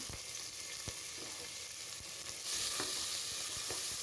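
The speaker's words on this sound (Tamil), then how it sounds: "எல்லாத்தையும் நல்லா வதக்கி விட்டுக்கலாம்." Onion, green chili and tomato sauté in hot oil in a pan while making sambar. A steady close sizzle runs throughout, punctuated by soft stirring scrapes and thumps, and the hiss grows louder halfway through.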